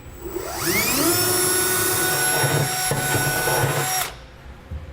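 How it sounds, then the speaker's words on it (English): A power drill with a 1/2 inch bit spins up to a high whine and bores steadily for about three seconds, enlarging a hole in a 2017 Ford F-350 Super Duty truck bed, before winding down, close and loud. "we're going to come back with a 1/2 inch drill bit and we're going to enlarge those"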